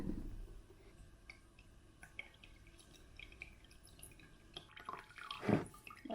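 Water dripping and trickling from freshly watered orchid bark potting mix, a run of small irregular drips and patters, close and quiet, with a brief louder splash near the end.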